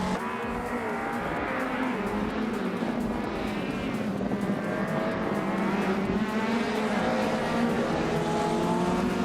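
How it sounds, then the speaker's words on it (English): Racing engines from a video game, a classic 1982 Renault 5 Turbo among the pack, roar continuously with shifting pitch as several cars run together, loud and steady throughout. "leading the pack at the moment is M Dust Platinum in a classic 1982 Renault 5 Turbo"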